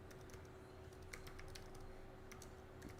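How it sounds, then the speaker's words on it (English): Fast typing on a computer keyboard, faint scattered key clicks over a steady low hum, close by with no talk. "excuse me, my fast typing"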